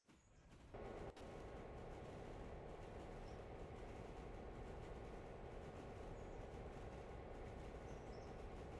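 Freight train running at speed in the railroad simulation game Railroader, a steady, dense rumble of rolling wheels and engine that holds even after a sharp clank near the start, with no voices.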